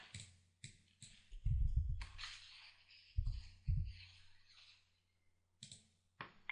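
A computer mouse clicks while Microsoft Outlook is in use, giving several sharp, quiet clicks spaced irregularly with a few duller low thumps, close and otherwise silent.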